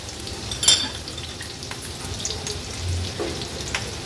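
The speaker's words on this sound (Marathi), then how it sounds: "आता आपण ह्याच्यामध्ये हिरवी मिरची आणि बारीक चिरून घेतलेला कांदा ॲड करणार आहोत" Green chili and finely chopped onion hitting hot oil in a pan, a close, steady crackling sizzle across the whole stretch with a sharper burst early on and faint scraping, no voices.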